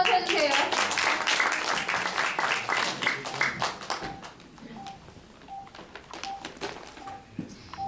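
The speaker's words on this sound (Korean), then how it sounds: "자 박수 한번 쳐주세요." Audience applause at a lecture on emergency medicines: a burst of crowd clapping for the first half that fades out, followed by quieter room sound with a regular electronic beeping.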